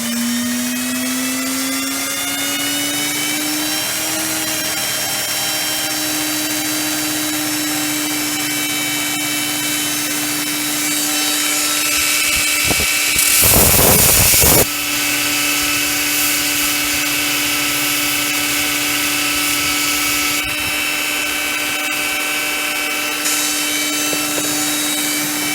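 A Heretic Hyperlite 2x72 belt grinder runs with a steady motor whine that rises in pitch, then breaks into a loud, harsh grinding burst as work is pressed against the belt before it returns to a steady hum.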